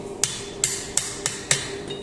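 A blacksmith bends metal while making forge tools, striking it with a hammer: five sharp, ringing blows at close range in an uneven rhythm about a third of a second apart, with no talking.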